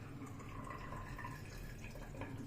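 Hot water running from a kitchen tap right after a gas boiler repair, a steady close splashing stream with faint dripping, continuous and fairly quiet, no talking.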